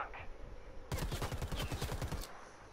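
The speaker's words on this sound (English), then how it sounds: "He is shooting at the predator" A rapid burst of automatic gunfire in Predator: Hunting Grounds, about a dozen quick shots lasting over a second, loud and close against quiet background.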